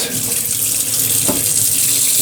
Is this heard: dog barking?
no